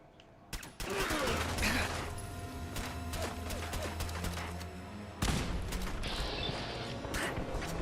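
Gunfire from a firearm in the video game Fallout: London: loud, fast bursts of shots crack out after a brief quiet start, continue steadily with mechanical clatter, then a heavier crash jolts near the end.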